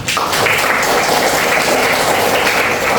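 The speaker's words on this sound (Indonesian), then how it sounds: "Kita kasih aplaus untuk kita semua." A classroom group claps together in a steady, dense burst of applause that stays loud and even for several seconds.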